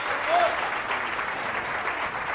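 A studio audience applauds a contestant on a Catalan word-spelling quiz show, a brief, even burst of clapping that stays steady throughout, with a faint voice briefly audible near the start.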